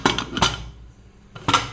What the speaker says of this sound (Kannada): ಕುಕ್ಕರ್ ಮುಚ್ಚಳನ್ನು ಮುಚ್ತೇನೆ.